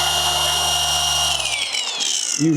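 Close, steady whine of a cordless polisher motor stepping through speed settings one to six, shifting pitch as it changes speed, then winding down near the end, with no one talking.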